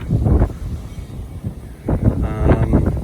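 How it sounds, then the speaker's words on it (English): Gusts of wind buffet the microphone in low, rumbling bursts, rising and falling, loud and close, with no talk. "As you can see, it's a bit windy."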